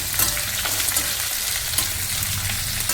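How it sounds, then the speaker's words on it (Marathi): Lengthwise-sliced onions sauté in oil in a pan, a loud, dense, continuous sizzle heard up close with faint stirring scrapes and no talking. "याच्यात कांदा जो उभा कापलेला आहे हा टाकून आता परतून घेऊया."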